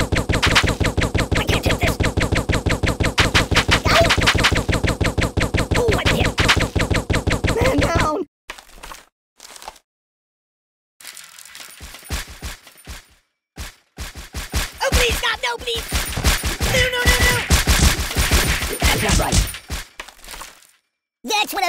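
Loud, close machine-gun fire in the Kick The Buddy game, a rapid continuous burst followed by a pause and then more rattling volleys with breaking and impact sounds.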